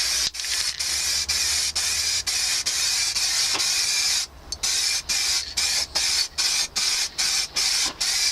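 A motorcycle oil cooler cover is spray painted in a series of loud hissing bursts from a rattle can, first long sustained sprays, then short rapid pulses separated by brief pauses.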